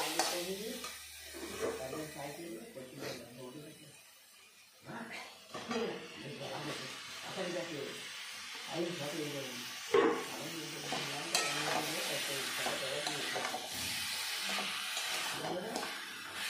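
Fried potatoes and cauliflower stirred into a cooked spice paste in a pan for a rohu fish curry, giving an ongoing scraping stir and soft sizzle beneath a person talking throughout.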